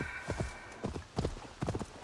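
Hooves of a horse clip-clopping in Assassin's Creed Valhalla, a close, regular rhythm of paired thuds at a walking-to-trotting pace over soft ambient background.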